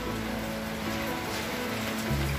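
Wind-driven rain falls on an orchid house, a dense, even hiss of drops spread across the whole clip, with a low rumble joining near the end and no talking.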